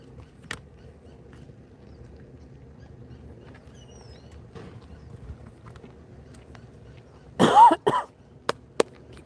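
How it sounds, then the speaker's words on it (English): A quiet low hum, then a single harsh cough bursts out near the end, followed by a couple of sharp clicks. "Coughing."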